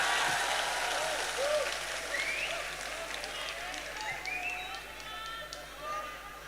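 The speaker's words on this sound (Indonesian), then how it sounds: "Tepuk tangan untuk Indonesia." A large audience at an Islamic sermon gathering in Lampung claps in a broad, continuous wash that slowly fades, with some voices and calls mingling over it.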